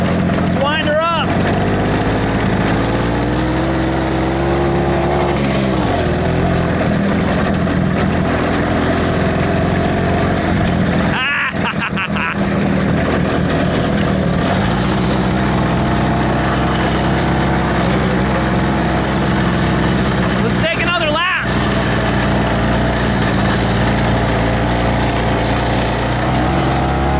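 A 125 motorcycle engine, known as the Double Hummer, runs loud and close, its pitch rising and falling through several revs over a constant rumble, with brief voices in between.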